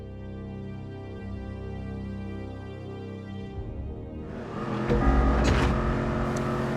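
Race car engine in GTA during a muscle-car qualifying lap on a long desert straight: a steady, high droning note that breaks into harsh rumbling and louder roaring as the car brakes hard and changes pace.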